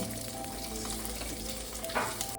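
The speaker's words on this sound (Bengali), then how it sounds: "ভাজা হয়ে গেছে, আলুটা আমার ভাজা হয়ে গেছে।" Potatoes frying in a pan for a Bengali fish curry, a steady close sizzle with faint scraping of stirring throughout and a brief louder stir near the end, no talking.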